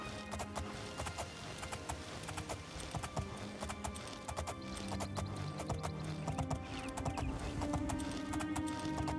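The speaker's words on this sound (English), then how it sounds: "Why that horse is just out there by itself." Horse hooves clip-clopping in the video game Oblivion, a steady run of sharp, evenly paced hoof strikes, fairly close but quiet, with no talk.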